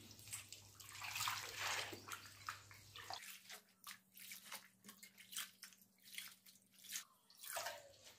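Gongura (sorrel) leaves washed in a bowl of water, a running splash at first, then a series of close sloshes and drips with no talk.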